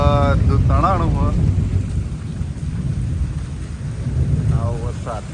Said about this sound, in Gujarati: આવો વરસાદ મારા જૂના લોકેશન પર.